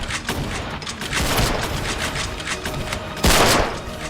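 Sniper rifle shots ring out in the war game War Simulator, with sharp booming reports over a busy, noisy battlefield background, one especially loud shot standing out near the end.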